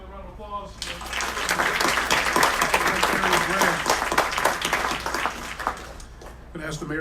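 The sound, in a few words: audience applause at city council meeting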